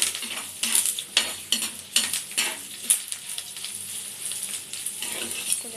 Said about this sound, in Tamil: கொஞ்சம் நல்லா லைட்டாக வதக்கிக்கோங்க.